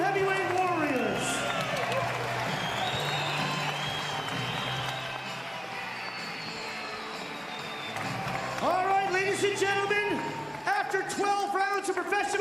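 Crowd applause and cheering in an arena after a heavyweight boxing bout, a broad continuous roar of clapping under a ring announcer's amplified voice throughout.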